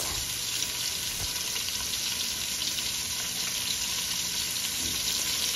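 Chicken feet go into a pan of golden-browned aromatics for arroz caldo, setting off a loud, steady, close sizzle that hisses evenly throughout with faint stirring.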